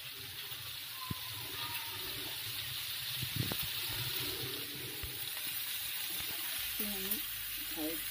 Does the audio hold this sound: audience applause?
no